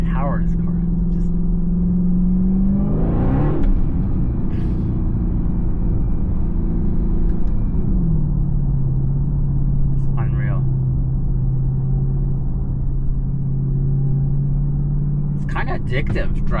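A 2023 Dodge Charger Hellcat engine pulling while driving, with a loud, low drone that climbs and drops in pitch through the gear changes, and a person talking over it.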